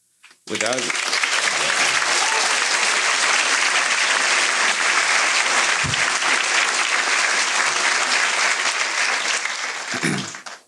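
A loud, sustained ovation fills a graduation ceremony honoring school staff, many hands clapping together for about ten seconds, with a few brief voices at the start and end.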